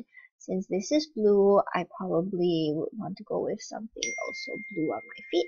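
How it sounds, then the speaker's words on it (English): A phone notification ding sounds once near the end, a thin sustained tone cutting over a woman's steady speech while she browses wedge sandals online. "Oops, that's my phone."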